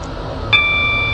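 A short electronic train signal chime in Stepford County Railway sounds once, then holds as a thin, steady tone over low background rumble.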